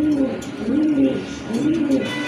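A pair of Giribaz pigeons with khoyra (brown) throats coo close by in repeated rolling, throaty phrases, loud and clear, with a faint voice briefly in the background.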